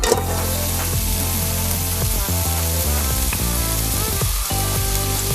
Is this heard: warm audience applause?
no